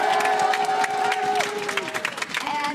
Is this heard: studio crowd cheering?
yes